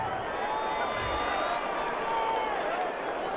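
A stadium crowd reacts to a penalty call with a steady, dense roar of voices and some whistling tones, sustained and fairly distant.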